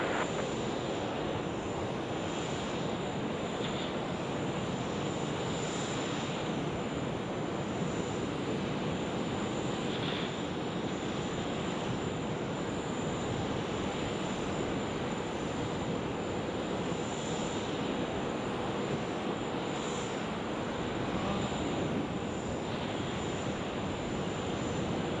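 A Rex airliner takes off from runway 34 left at Sydney Airport, its engine roar a broad, steady, fairly distant rumble that holds at the same level throughout with no voices.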